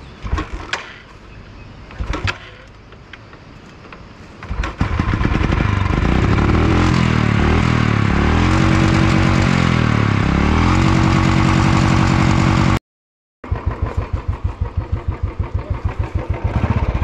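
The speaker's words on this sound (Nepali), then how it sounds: "बाइक स्टार्ट नभएको अवस्था" A motorcycle engine in cold mountain weather in Mustang, Nepal, is cranked and catches, then revs loudly and steadily for several seconds close by, briefly cuts out and restarts with rhythmic pulsing; no talk over it.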